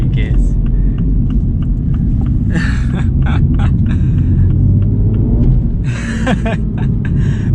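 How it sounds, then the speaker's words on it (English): A 2023 Mini Cooper JCW rumbles from inside the cabin as it is knocked down through the gears, the engine note rising and falling with rev blips between shifts while a person talks over it. "I like knocking it down a few gears."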